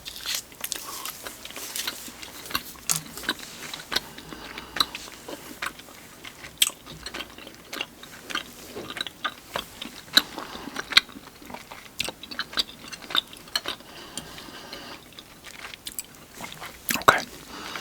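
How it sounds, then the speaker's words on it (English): Close, continuous gum chewing for ASMR, with wet smacks and crackly crunches in an irregular rhythm, soft whispering mixed in throughout. "this being ASMR, I like to chew the gum for extra tingles"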